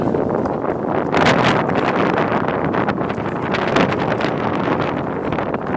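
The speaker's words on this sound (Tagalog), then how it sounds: "Very windy." Strong wind gusting outdoors and buffeting the microphone, a loud continuous roar with surging peaks, filling the whole stretch.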